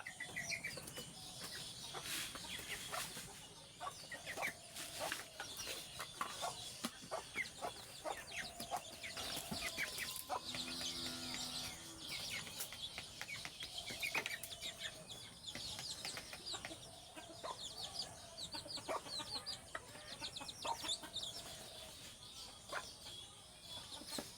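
A broody native desi hen on a Bangladeshi poultry farm clucks in low, repeated calls amid a busy yard of other chickens, with wing flapping and scattered bird noise throughout.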